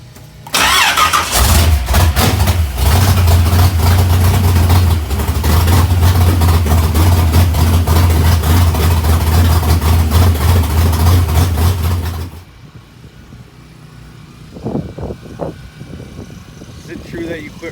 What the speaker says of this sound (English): top fuel startup procedure.